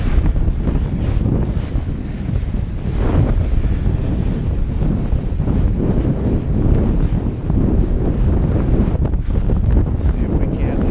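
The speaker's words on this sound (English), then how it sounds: "wind's really in and out" Gusty wind roars loud and steady across the microphone while kiteboarding on a 12m Duotone Switchblade kite with a Spike board, with water noise underneath and strength surging in and out.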